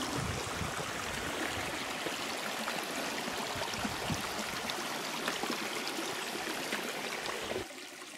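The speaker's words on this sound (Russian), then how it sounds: "Речка маленькая. Воды практически нет." A small mountain stream in a Crimean gorge, running low after a long dry spell, trickles and babbles steadily close by. The water sound is continuous, with no voices.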